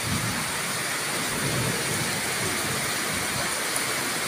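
Steady rain pours down outdoors near a festival pandal, a dense, even hiss holding at the same level throughout with no break and no voices over it.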